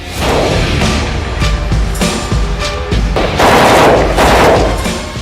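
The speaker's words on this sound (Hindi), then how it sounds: "इस हाईटेक ऑटोमेटिक असॉल्ट राइफल से बिजली की रफ्तार में दनादन निकलती गोलियां" Rapid continuous automatic gunfire from an AK-203 assault rifle, loud and dense, bursts of rattling shots running together without pause.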